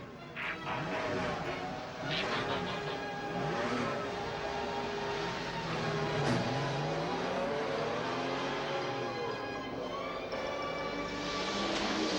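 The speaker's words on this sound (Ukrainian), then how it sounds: "завести мотори" Revving engines of the Transformers G1 cartoon's Autobots roar continuously for several seconds over a dense, busy background, with crashing and whooshing sounds mixed in.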